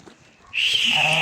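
A young Tatali-breed ram lamb at a livestock sale gives a single loud, close bleat that starts midway and carries to the end after a quiet moment.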